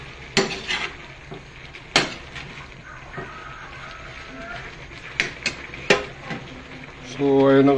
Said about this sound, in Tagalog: So, haluin natin.